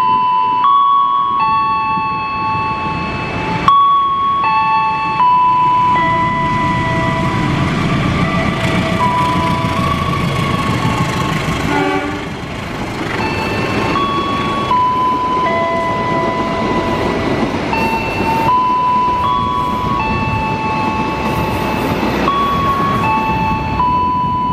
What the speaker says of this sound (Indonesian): Artinya kereta api Manahan ini persiapan akan memasuki stasiun Jayanegara